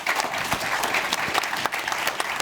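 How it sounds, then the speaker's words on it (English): An audience applauds at the close of a panel discussion at a blockchain conference, a full burst of many hands clapping with a few louder individual claps standing out, sustained for the whole short stretch. "So, round of applause."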